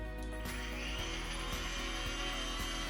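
A MakerX mini blower runs continuously, a dense steady whir with a faint regular ticking pulse about twice a second, close and constant throughout, with no talking.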